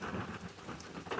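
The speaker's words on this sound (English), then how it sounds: "Storm calming down." Summer thunderstorm rain pours steadily on surfaces, a dense even hiss with a low rumble, no voices, for a brief moment.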